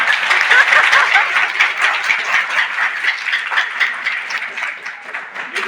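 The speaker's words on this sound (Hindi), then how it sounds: "तालियां।" Applause at a school energy conservation workshop, a crowd of students clapping loud and dense at first, then thinning and fading gradually over several seconds.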